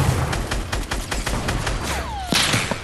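Rapid pistol shots ring out in Fortnite, a quick series of sharp, loud cracks close together, with one brief whistling sweep near the end.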